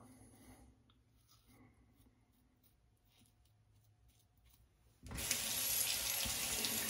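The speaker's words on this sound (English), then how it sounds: "All right, we go down for the rinse." A bathroom tap comes on and runs loudly and steadily at the sink for rinsing a shaving razor, after several seconds of quiet rustling and small handling sounds.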